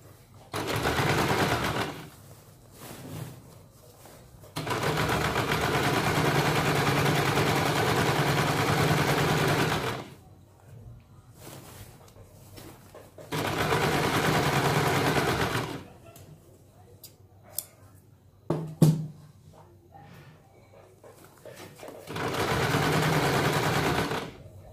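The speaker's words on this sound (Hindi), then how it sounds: "अभी यहाँ पे हमें इसके ऊपर जो है डबल सिलाई लगानी है।" A sewing machine runs double stitching on a salwar, whirring in several sustained bursts of a few seconds each, separated by quieter gaps with faint handling noises.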